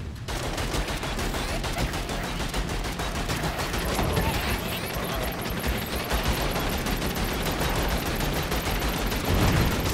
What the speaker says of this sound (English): Basically got a machine gun.